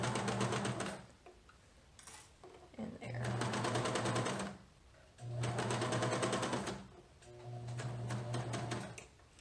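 A domestic sewing machine runs three long bursts, stitching a garment seam from hem through a lace sleeve, with brief pauses between runs; near and steady, no talk over the motor.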